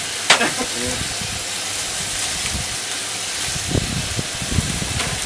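Bacon and sausage sizzle on a shovel inside a steam locomotive cab, giving a steady close frying hiss with a few crackles and pops throughout, and a brief voice near the start.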